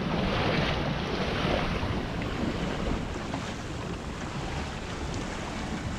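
Strong wind roars across the microphone while waves wash and slap against a small sailing dinghy on open water in a building nor'easter. The rush is steady and loud with no voices.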